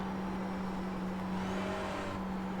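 Car engine held under steady throttle, a constant close droning hum with an even tone and no voices.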